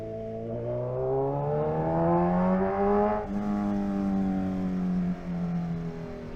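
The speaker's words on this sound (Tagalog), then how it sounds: "Mamimiss ko ang tunog na itong Z1 natin." A Kawasaki Z1000R motorcycle engine revving up and down nearby, pitch rising and falling across several throttle pulls, loud and alone.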